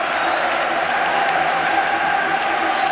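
Dense, continuous applause and crowd noise from Rangers football supporters clapping captain Richard Gough at his final home match in May 1998, a steady wash of many hands without breaks.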